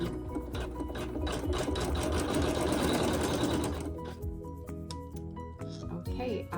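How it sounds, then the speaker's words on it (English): A machine runs fast and steady for about four seconds, stitching fabric down on a machine-embroidered quilt block, then slows into a few scattered clicks and taps. "the machine will tack my fabric down"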